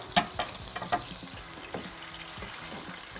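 Chicken frying in a pan with a steady sizzle, a few scraping clicks of stirring at the start, moderately quiet and close.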